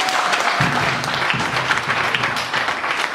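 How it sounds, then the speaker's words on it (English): Audience clapping for the ladies at a church gathering, steady and fairly loud, with dense hand claps running throughout and low voices rumbling faintly underneath. "let's clap our hand for the ladies"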